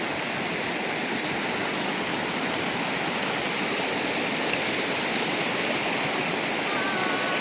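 A strong river swollen after Typhoon Carina, near Esbol Falls, roars as a loud, steady, unbroken rush of whitewater that fills the whole stretch without pause.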